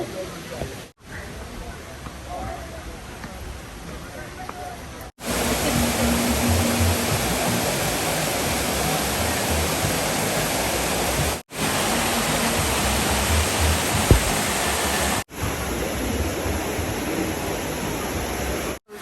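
Continuous roar of falling water, a broad steady rush with a few brief cuts, heard close and loud throughout.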